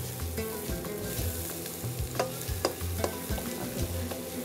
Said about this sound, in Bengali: তো আমরা তেলের মধ্যে প্রথমে পেঁয়াজটা দিয়ে নিলাম, হ্যাঁ, পেঁয়াজটা একটু ভেজে,